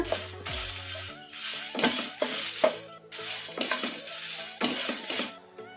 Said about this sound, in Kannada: ಈಗ ಒಣಮೆಣಸಿನ್ಕಾಯಿ ಕೂಡ ಫ್ರೈ ಆಗಿದ್ದಾವೆ